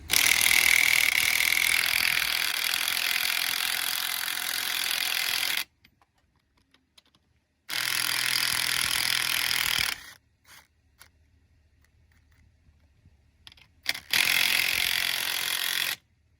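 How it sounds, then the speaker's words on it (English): A battery impact wrench hammers out a 15mm seat bolt on an Escalade power seat in three loud, rattling bursts: one long run, then two shorter ones separated by quiet pauses. "I'm gonna use my battery impact. It's just way quicker."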